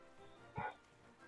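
A dog in a Roblox roleplay game gives one short, sharp bark against a quiet, steady background hum.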